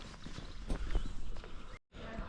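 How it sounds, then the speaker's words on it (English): A horse and cart passing along a medieval street in Rocamadour, its hooves giving a few clip-clop beats close by, with background noise and a brief drop to near silence toward the end. "Horse and cart."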